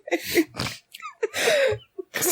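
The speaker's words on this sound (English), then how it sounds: "I love a good sneeze." Several sharp sneezes burst out in quick succession, close and loud, with breathy gasps between them.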